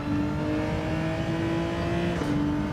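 A race car engine in Gran Turismo 7 holds a steady high drone with a sustained whining tone, loud and continuous, pitch dipping slightly near the end, with no talk over it.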